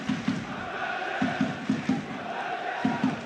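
A football stadium crowd of around 7,000 at a St Mirren versus Hibernian match keeps up a distant, steady murmur, with a few bursts of low, rhythmic chanting or claps rising above it.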